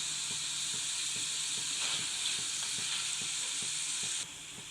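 Chana dal deep-frying in hot oil gives a steady, dense sizzling hiss close by, with faint regular ticking underneath, dropping suddenly in level near the end.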